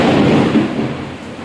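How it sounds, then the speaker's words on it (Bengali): Loud, close rumble of thunder during a torrential downpour with heavy lightning, a deep roll lasting over a second and easing slightly toward the end. "মারাত্মক পরিমাণে বজ্রবিদ্যুৎ সহ মুষলধারে বৃষ্টি হচ্ছে।"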